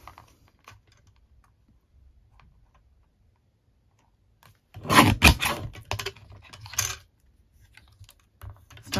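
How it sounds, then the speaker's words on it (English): A small Stampin' Up paper trimmer slices through card in a quiet craft room, a brief close burst of scraping and clicking after several seconds of near silence. "I need to chop that. And I'm going to bring in my little"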